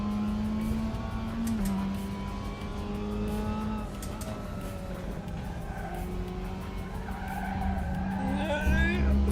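Race car tires skid and squeal in RaceRoom, the racing video game, with sliding tire tones and a droning engine throughout while someone talks over the sound.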